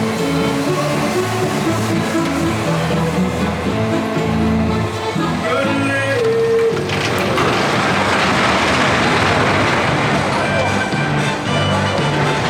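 A mini mine-train rollercoaster at Energylandia rattles and clanks along its track, first with rumbling wheel and chain noise, then with a loud, rushing roar of wind and motion. Riders' voices are mixed in.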